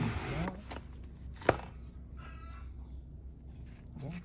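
A single sharp knife chop cuts into overripe yellow jackfruit to remove its hard center core, one clear thud standing out amid quiet background clatter.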